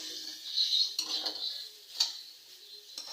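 Bitter gourd stirred in a pan with salt and turmeric: scraping, clinking spatula strokes against metal, a few distinct scrapes spaced about a second apart, near and moderately loud, with no voices.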